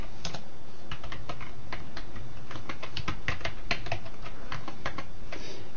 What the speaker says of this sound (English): And you want to type in your name.